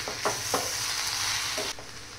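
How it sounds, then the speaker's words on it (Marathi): Fenugreek greens being stirred into a hot garlic tempering for lehsuni besan methi, a steady close sizzle broken by a few distinct scraping strokes of the spoon, then a sudden drop in hiss near the end. "पूर्ण फोडणीमध्ये आहे ना ही भाजी छान मिक्स करून घ्यायची।"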